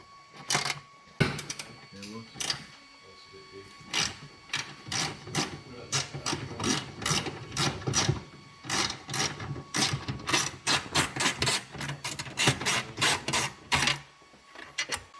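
Rapid bursts of a powered ratchet or impact driver backing out 10mm screws from the rocker cover heat shield on a Honda Civic FN2 Type R K20A engine, repeated short whirring runs with brief pauses, voices talking between them.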